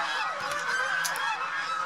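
Geese on a goose farm give a dense, continuous chorus of nasal honks, close and fairly loud, with overlapping calls and no pauses.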